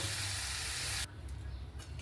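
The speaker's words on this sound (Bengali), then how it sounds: "এই পর্যায়ে আমি অল্প করে জল দিয়ে দেব" A little water poured onto fried spice masala in a hot pan bursts into a loud hiss for about a second, then fades to a quieter simmering sizzle.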